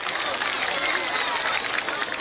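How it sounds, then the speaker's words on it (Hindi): A crowd at a political rally applauds, producing a dense, steady wash of clapping that fills the whole moment without letting up. "ताली बजाइए जोर से"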